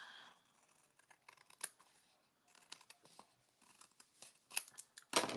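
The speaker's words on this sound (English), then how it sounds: "So I'm going to trim this off by hand." Scissors trim card stock by hand in a series of crisp, close snips and slicing crunches, irregularly spaced with short pauses and growing louder toward the end.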